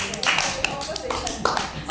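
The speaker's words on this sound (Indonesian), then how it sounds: "Tepuk tangan dulu, yang meriah." Family members clap at a 46th wedding anniversary gathering, a scattered burst of hand claps and taps mixed with voices talking over them, fairly close and moderately loud.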